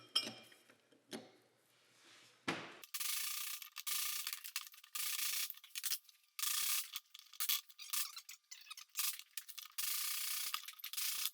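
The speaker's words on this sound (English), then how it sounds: "Remove snap ring and then output shaft." Metal parts scrape and clatter as a snap ring and output shaft come out of a Roxor transfer case on a bench: a few soft knocks, then repeated loud bursts of ratcheting, rubbing metal with short pauses between them.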